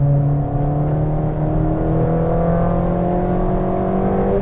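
Car powering through corners on a wet race track during a track day, with a strong engine note rising in pitch as it accelerates, steady and close, alone without voices.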